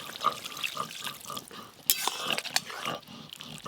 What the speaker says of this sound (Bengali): এতে আরও একটু জল দিয়ে দেবো।